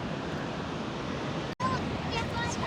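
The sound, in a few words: ocean waves breaking on a beach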